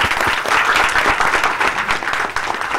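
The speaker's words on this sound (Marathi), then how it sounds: "आपण जोरदार टाळ्या वाजूयात खरं तर." A studio audience applauds for actor Shivaji Satam, dense steady clapping filling the whole stretch at close range without pause.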